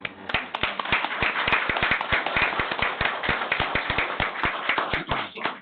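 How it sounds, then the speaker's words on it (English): A small group claps at a county commissioners' meeting, distinct sharp hand claps close by in a brisk, uneven rhythm lasting several seconds. "So if we can give her a round of applause."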